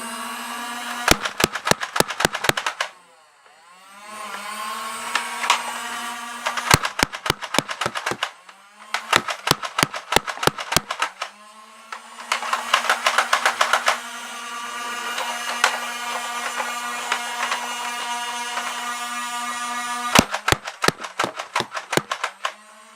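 Toy Nerf blaster firing foam darts in quick close-up bursts of sharp clicks and snaps, separated by short pauses with a steady mechanical whir between volleys.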